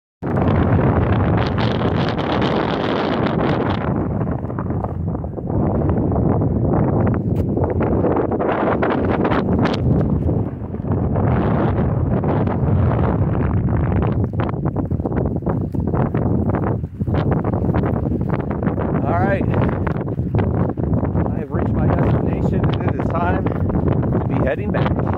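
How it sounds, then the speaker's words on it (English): Strong, steady wind on a hilltop on the Yakima Rim Trail above the Yakima Canyon roars and buffets the microphone throughout, a loud rushing gust noise with brief dips, no other clear sounds above it. "Wish it wasn't so windy up here"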